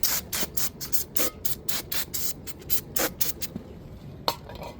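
A spray bottle of cleaner is squirted onto a Lexus GS brake rotor in a series of short, quick hissing bursts, close and fairly quiet, with a few pauses and a light knock near the end.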